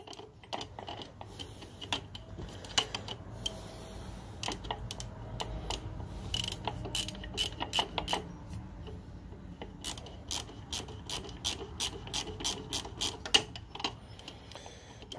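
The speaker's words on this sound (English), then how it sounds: "My wrench keeps coming off the bolt." A wrench works a bolt on the power steering pump of a Fox Body Mustang, making quiet, rapid metallic clicks and ticks in uneven bursts close by, with no talking.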